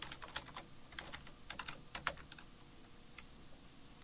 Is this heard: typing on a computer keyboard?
yes